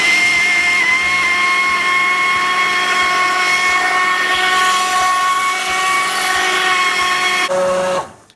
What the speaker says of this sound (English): I'll put the blender in, make sure it goes below the surface, and make it go